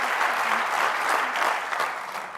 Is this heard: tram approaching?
no